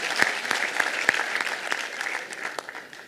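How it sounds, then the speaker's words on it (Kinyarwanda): A crowd at a wedding celebration claps in a brief burst of applause, a dense patter of hand claps with a few sharper strikes. "Ndagira ngo mubanze mu mumpera amashyi."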